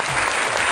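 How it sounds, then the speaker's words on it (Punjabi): A village audience at an outdoor gathering claps together in a short, dense burst of applause, loud and close, filling the whole moment. "ਇੱਕ ਵਾਰ ਤਾੜੀਆਂ ਖੋਲ੍ਹ ਕੇ ਜੀ ਪਿੰਡ ਵਾਲਿਆਂ ਦੇ ਨਾਂ 'ਤੇ"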